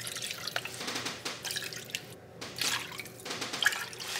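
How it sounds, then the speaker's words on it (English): Water pours and splashes into a pot of meatballs and spaghetti sauce, a soft uneven trickling and dripping heard close and quiet, with no talking. "Now we're going to add in 4 cups of water."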